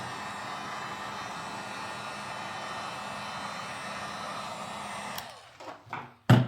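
A heat gun heats the adhesive under a OneWheel rail guard with a steady airy blowing roar, held close and even for about five seconds before it shuts off, followed by a few handling knocks.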